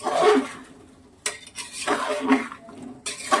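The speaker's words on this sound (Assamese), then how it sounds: "এতিয়া ইয়াৰ ওপৰত মই কাটি ৰখা বিলাহী, ফুলকবি, আলু গোটেইবোৰ দি আৰু ওপৰৰ পৰা ধনিয়াৰ পাত দি কেনে ভালকৈ মিলাই লম।" A spoon scrapes and clatters in a pan as chopped tomato, cauliflower, potato and coriander leaves are stirred into masala, giving a few sharp metallic knocks between softer scraping strokes, close and fairly loud.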